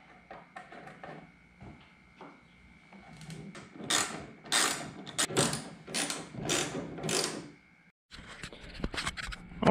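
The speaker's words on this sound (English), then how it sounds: "Put your two bolts back on." Ratchet clicks as bolts are tightened on a Nissan Frontier axle: close bursts of rapid mechanical clicking, repeated in several runs with short pauses between them.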